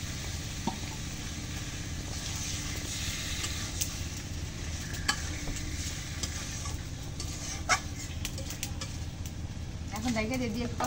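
Free-range country chicken meat frying with sautéed spice paste in a pan, a continuous sizzle with scattered stirring clinks and scrapes, while voices talk over it throughout.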